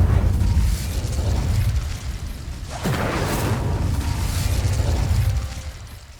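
Incendio fire spell cast in Hogwarts Legacy, a loud burst with a rising whoosh and a sharp blast near the middle over dense rumbling game background, with no talk.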